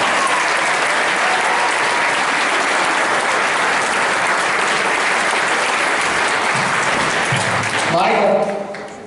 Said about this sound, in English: So please give a round of applause for Mr.